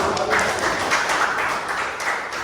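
Classroom applause, a light patter of scattered hand claps from a group of students, steady and moderately close, with faint murmuring underneath.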